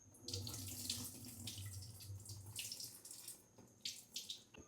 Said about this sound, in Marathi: आणि पाणी गाळून टाकूया.